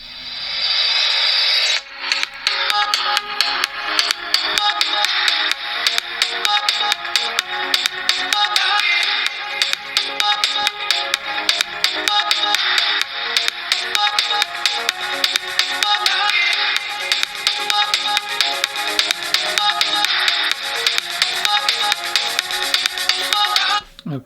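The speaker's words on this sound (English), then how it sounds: "let's play this track on the OnePlus 3" A music track plays through the loudspeaker of a OnePlus 3 smartphone, a steady, bright and dense stream with percussive hits that starts after a short pause and runs loud and continuous to the end.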